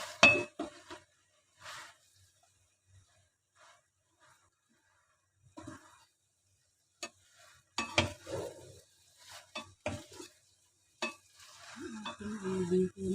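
Bihon rice noodles with pork pata are stirred and fried in a pan: soft intermittent bursts of scraping, clinking utensil strokes and light sizzling, separated by quiet pauses, growing busier toward the end.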